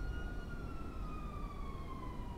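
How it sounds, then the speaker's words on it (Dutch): A police car siren in the video game GTA V wails as one steady, sustained tone that glides slowly downward, fairly loud over a dense rumbling game background, with no talking. "Oké, er komt één politieauto aan."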